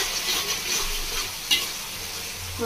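Spice masala simmering and bubbling in a pan for a Bengali bottle-gourd and prawn dish, with steady soft sizzling, light stirring scrapes and a couple of sharper clicks near the end, no voices.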